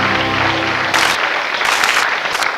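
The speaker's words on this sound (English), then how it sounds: "Give her a big round of applause." A television quiz show studio audience breaks into applause, a loud burst of clapping that follows a short voice and carries on steadily to the end.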